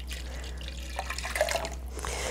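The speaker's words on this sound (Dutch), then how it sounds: "We gaan het water in de beker gieten." Water pouring into a cup, with a small funnel at hand, gives a soft trickling, splashing stream that runs steadily for a couple of seconds at moderate level, close by and with no talking.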